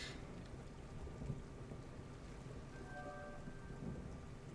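Steady rain and rolling thunder from a stormy sea in the pirate game Sea of Thieves, with a continuous loud downpour and a low rumble throughout, plus a few faint tonal sounds near the end.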